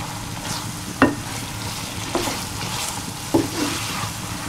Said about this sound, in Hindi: अब इनको हम थोड़ा सा फ्राई करते हैं।